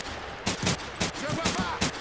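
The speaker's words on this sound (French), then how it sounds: "je tire sur le rocher là" Bursts of gunfire from the video game Medal of Honor: Pacific Assault, about five or six sharp, loud shots in quick irregular succession, close and punchy.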